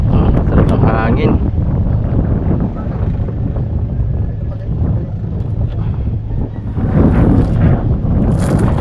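Strong outdoor wind buffets the microphone in a steady, loud rumble throughout, with gusts swelling and easing while someone talks intermittently over it.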